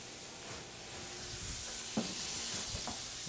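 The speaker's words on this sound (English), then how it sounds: "Want to stir them around a little bit." Onions sizzle steadily in a hot pan while a spoon stirs them, scraping and clinking a few times over the continuous close frying hiss.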